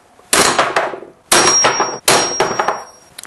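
Three sharp, ringing hammer blows strike a small aluminum bronze alloy sample, each loud close clang decaying briefly before the next, with no talk.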